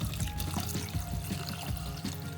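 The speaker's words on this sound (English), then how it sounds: "Add some water to it." Water poured into a cooking pan holding turmeric, red chili powder and chopped onions, a steady splashing pour lasting a couple of seconds with no talking.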